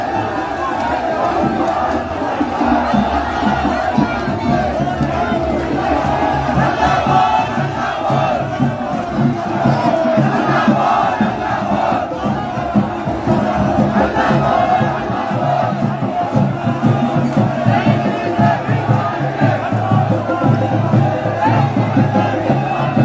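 Dense crowd noise from a land-law and domicile-certificate rally in Uttarakhand, a steady, loud roar of many voices with chanted slogans throughout, no pauses.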